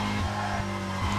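A BMW M3 GTR E46 drifting in Need for Speed Carbon, its engine droning steadily with tire squeal layered over the top, close and continuous.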